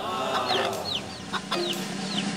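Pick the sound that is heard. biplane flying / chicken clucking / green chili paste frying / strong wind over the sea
chicken clucking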